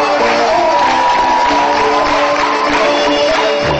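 A full-house audience cheers and claps loudly for a timid four-year-old boy's traditional Kabardian dance, with a dense, steady roar of applause and shouts running throughout, close and continuous.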